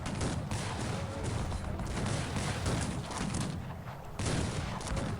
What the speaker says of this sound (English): Let's see if these cannons will be able to shoot.